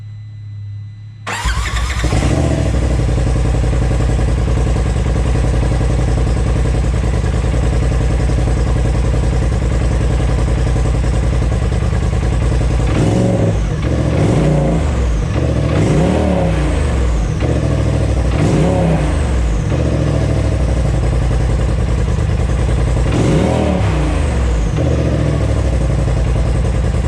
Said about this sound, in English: that was the sound of our stock diverter valve or blow-off valve